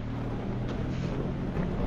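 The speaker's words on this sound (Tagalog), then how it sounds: "Sobrang lakas ng hangin" Strong wind buffets the microphone in a steady low roar at Pantabangan, with no voices.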